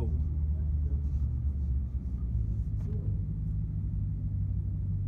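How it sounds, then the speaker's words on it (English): A supercharged Shelby GT500 engine rumbling steadily with a deep, continuous low growl, fairly loud and close, holding an even level throughout without talk. "Shelby GT500."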